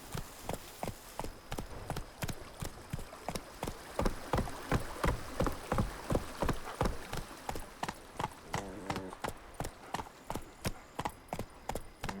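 Roach, a horse in The Witcher 3, clip-clops at a steady walking rhythm, hoof strikes close and regular throughout, with a faint patter like rain behind and no talk.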